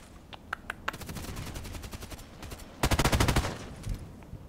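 Automatic gunfire in a shooter game with a customized EBR rifle: a few scattered single shots, then rapid sustained bursts, a louder burst near the end, close and punchy with no talk.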